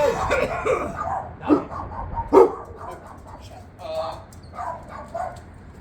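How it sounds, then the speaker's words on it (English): A dog barks a few times nearby, short sharp yaps with whimpery sounds between them, over a low rumble of background noise. "Stop barking, baby."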